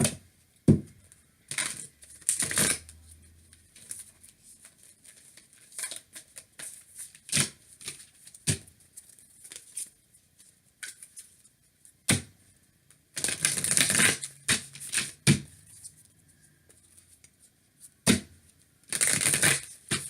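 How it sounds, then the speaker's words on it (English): Repeated bursts of crisp papery riffling and tapping as oracle cards are shuffled up close, separated by quiet pauses, with a longer flurry midway. "We'll do one more shuffle"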